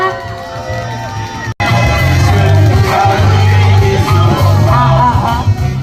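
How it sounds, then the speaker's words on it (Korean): A loud crowd cheers, shouts and applauds at an evening candlelight rally commemorating a disaster anniversary, a dense and sustained roar of many voices that continues steadily after a brief drop near the start. "큰 박수로 모시겠습니다"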